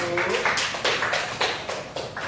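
Clapping from a classroom group of students, a quick run of sharp overlapping claps that holds steady for a couple of seconds, fairly close and loud.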